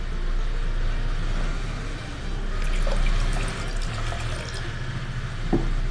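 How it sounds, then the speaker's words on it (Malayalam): Water pours steadily into a pressure cooker holding horse gram, a continuous close rushing splash over a low background hum, with no speech. "അപ്പോൾ നമുക്ക് നന്നായിട്ട് വെള്ളം ഒഴിച്ചു കൊടുക്കണം"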